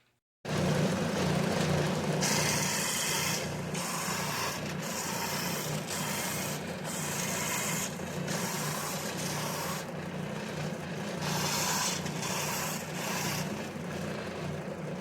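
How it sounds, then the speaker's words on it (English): Bandsaw running steadily through a piece of wood, a continuous rasping buzz with the cut pressure rising and easing in repeated pulses over about fifteen seconds, close and alone. "take it over to the bandsaw, cut it off right about there"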